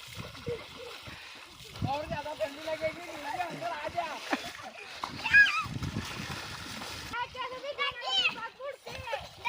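People splash and play in flowing village river water, with intermittent close splashes and churning water mixed with lively talk and children's voices throughout.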